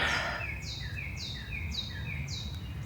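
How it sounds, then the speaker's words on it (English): Several short bird chirps repeat at a steady pace over a low, constant outdoor rumble, clear but not very close. "You could hear the birds."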